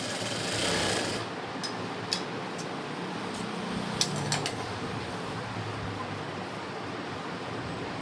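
An embroidery blouse being stitched on a sewing machine, a steady continuous mechanical whir that runs throughout, slightly louder in the first second, with a few faint clicks along the way.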